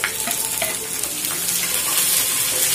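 Chopped onions and curry leaves fry in a hot oiled pan for a chutney, giving a loud, continuous sizzle with crackling bursts and some stirring, close up and without talk.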